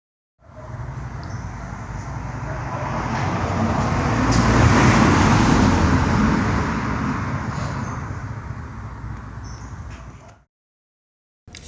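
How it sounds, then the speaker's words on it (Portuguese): A car passes along a street, its broadband road noise swelling steadily from quiet to a loud peak midway and then fading away over about ten seconds, with no talking. "Acertou quem disse que é um carro passando na rua."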